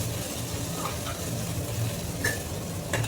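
Green chilies roasting in a hot pan give a steady, close sizzle, broken by a few short scraping stirs toward the end, with no one speaking.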